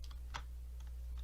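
A date typed on a computer keyboard, a few soft, scattered keystrokes tapping close by over a steady low electrical hum.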